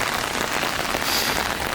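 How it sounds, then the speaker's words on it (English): Steady, consistent rain falling outdoors on a walk, a dense even hiss of drops pattering on surfaces, close and continuous with no voices. "It's just like a nice sort of steady, consistent rain."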